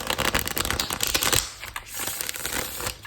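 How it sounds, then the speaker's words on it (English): A deck of tarot-style reading cards being shuffled by hand, a dense close-up riffle of flicking card edges that is loudest in the first second and a half, then softer, looser shuffling continues. "Feel free to fast forward if you don't want to see the shuffle."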